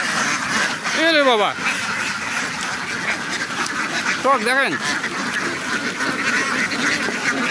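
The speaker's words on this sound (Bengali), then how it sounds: "এত হাঁস সব দেশি হাঁস" A flock of native domestic ducks on a duck farm quacks in two loud raspy bursts over constant background noise, while a person talks nearby.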